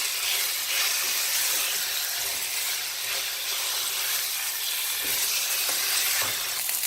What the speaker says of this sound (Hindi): अब चिकन डाल के 5 मिनट के लिए हम हाई फ्लेम करके इसको थोड़ा सा फ्राई करेंगे।